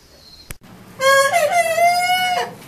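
A rooster held in a crate with other meat chickens and hens crows once, loud and close, after a brief sharp knock, with no talk over it.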